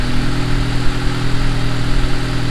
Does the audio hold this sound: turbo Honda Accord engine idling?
yes